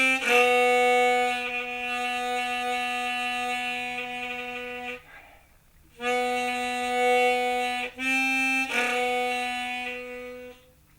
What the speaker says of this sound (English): A wind saver which is mounted wrongly can sometimes sound like this.